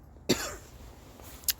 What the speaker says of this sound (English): it's getting cold and I have a smoker's cough